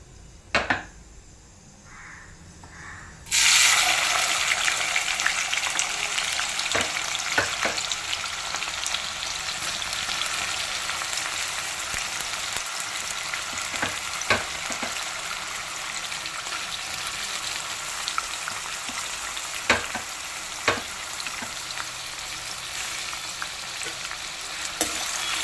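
Onions for a mutton curry drop into hot oil and erupt into a loud, sustained frying sizzle after a quiet start, with occasional knocks and scrapes of a stirring spoon against the pan throughout.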